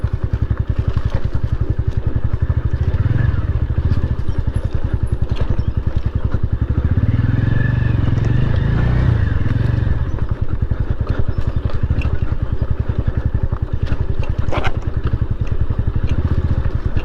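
A motorcycle is ridden over a boulder-paved road badly damaged by monsoon rains; its engine drones loud and close throughout, with rattling clatter from the rough surface.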